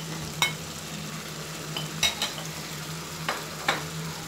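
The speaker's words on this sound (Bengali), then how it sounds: "মাছগুলি দিয়ে আমি আরেকটু কষিয়ে নিচ্ছি।" Prawns frying with spice paste in a pan for prawn malaikari, a soft steady sizzle punctuated by several sharp clinks of a spoon stirring against the pan.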